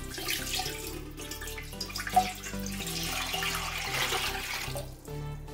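Water is poured from a vessel into a large cooking pot on a gas stove for rice-flour papad dough, a steady splashing gurgle that runs for several seconds at moderate loudness over a low background hum.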